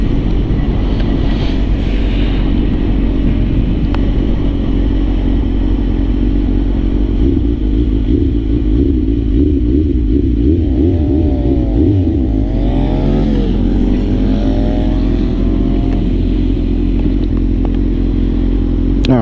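A 2006 Suzuki GSX-R1000 sportbike with a shortened exhaust drones steadily while being ridden, its engine note rising and falling through gear changes under constant loud wind buffeting, with no talking.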